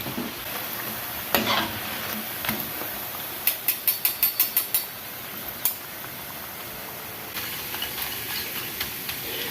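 Spinach pakoras, made with home-grown palak, frying in hot oil with a steady crisp sizzle, a quick run of light taps and clinks midway, and no talking.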